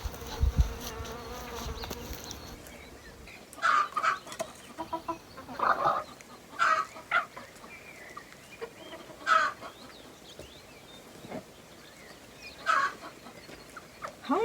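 Hens cluck in short, scattered bursts at moderate distance, with insects buzzing faintly in the background.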